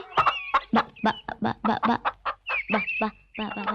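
A rapid run of clucks and squawky calls from chickens close by, fairly loud and choppy, with no talking.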